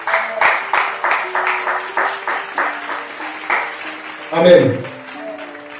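Church congregation clapping in rhythm, a steady beat of loud claps throughout, with voices singing and shouting over the clapping.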